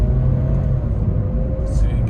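A Scion tC picking up speed from a green light, its engine rumble steady and close for about two seconds, with people talking over it.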